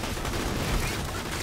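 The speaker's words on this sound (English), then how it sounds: "Torque shotgun, they go slow." A Torque shotgun in Borderlands The Pre-Sequel fires amid a harsh, dense wash of noise, the blasts loud and smeared together over a brief burst of chaotic combat.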